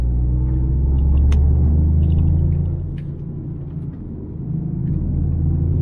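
A Toyota Yaris GR pulls hard under full throttle, its engine a deep, loud rumble that swells, dips briefly as if shifting, then builds again, heard from inside the car without talk.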